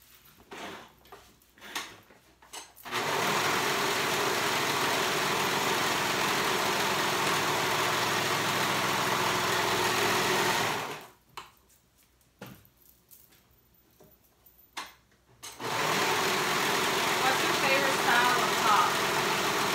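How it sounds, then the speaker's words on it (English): A sewing machine stitches the raw edges of a dolman top in two sustained runs, each a steady close motor hum lasting several seconds, separated by a pause filled with light handling noises. "we're just going to sew those raw edges together real quick"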